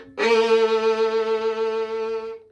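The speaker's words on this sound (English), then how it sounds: "So if I'm playing a really fast piece of music, it would sound like this." A bright violin note starts sharply and sustains with a rapid, shimmering vibrato, solo and close, then stops.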